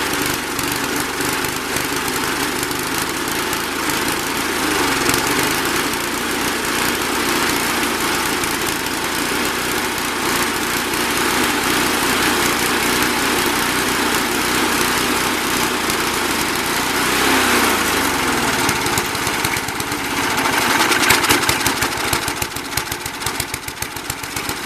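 A Briggs & Stratton lawnmower engine idles steadily and loudly nearby, a continuous rough drone with a slight rise and waver in pitch toward the end, heard on its own.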